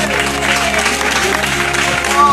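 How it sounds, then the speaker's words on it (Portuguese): A church congregation at a night revival campaign service applauds in a dense, continuous wash, loud and close, mixed with sustained tones from music and voices throughout. "dê uma salva de palmas com glória a Deus nessa noite"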